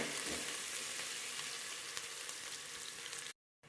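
Finely chopped onions frying in oil in a pan for chicken curry, a dense steady sizzle heard up close, cutting to brief silence near the end.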